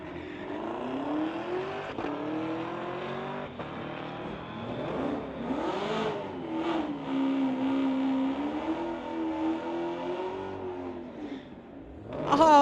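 A 2018 Camaro ZL1 drag racing down a strip, its engine rising in repeated revving sweeps through the gears, loud and steady, with another surge building at the end.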